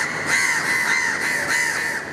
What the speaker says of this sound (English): These crows are a common sight in Singapore